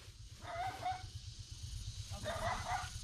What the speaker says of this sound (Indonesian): Anjingnya menggonggong terus.